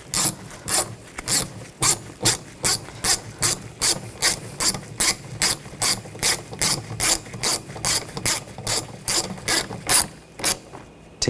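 A ratchet tightens screws on a Nissan window regulator inside a car door, clicking in about twenty quick, evenly spaced bursts, close and crisp, with no talking.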